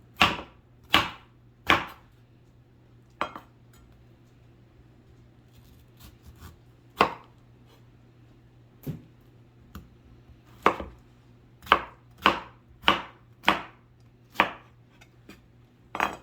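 A knife chops food into squares on a cutting board with sharp, close taps, a few sparse strikes at first and then a quicker run of evenly spaced cuts over a low background hum.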